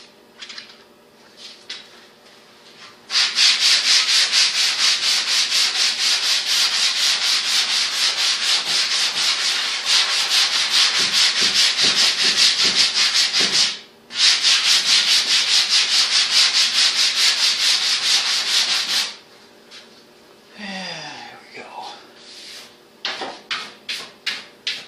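Hand sanding rasps steadily across a surface in long, continuous, loud passes, with one short pause midway and then quieter, scattered strokes and light knocks toward the end; no talking.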